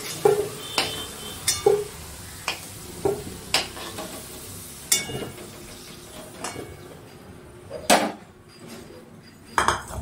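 Sharp metallic clinks and scrapes of a utensil lifting fried potatoes from a pan repeat at irregular intervals over a soft background sizzle.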